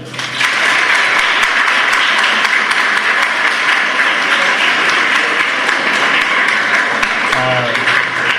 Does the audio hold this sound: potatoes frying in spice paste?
no